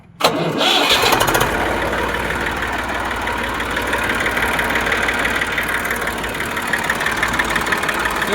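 An Eicher 380 tractor engine cranks and catches after a brief moment, then settles into a loud, steady, rumbling idle that continues throughout.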